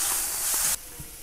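Curry leaves dropped into hot oil in a large pot: a loud, bright hissing spatter that runs for under a second and then cuts off sharply to a quiet background.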